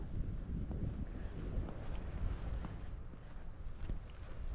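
Steady, loud wind rushes and buffets the microphone in a constant low roar during heavy snowfall in the United States, with no voices present.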